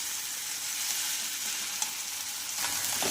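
Sabudana khichdi seasoned with salt is stir-fried in a pan, a close, steady sizzling hiss with soft spoon scrapes and a brief knock partway through.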